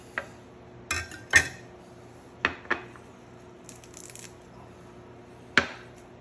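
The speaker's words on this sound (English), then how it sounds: "I'm going to chop a little bit of cilantro" Cilantro being chopped with a knife on a board in a home kitchen: a handful of crisp, separate blade strikes in an irregular rhythm, close and fairly loud, with no talking.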